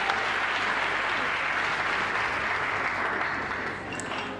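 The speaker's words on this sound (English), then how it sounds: "So a round of applause for both of them." An audience at the 2025 South African Women in Science Awards applauds steadily, a dense wash of clapping that slowly thins toward the end.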